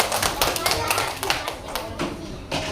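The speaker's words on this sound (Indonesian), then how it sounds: "Tepuk tangan dulu untuk Sultan" Children in a classroom clap for a classmate named Sultan, a quiet, loose patter of small hands with a few sharper taps and scattered voices over it.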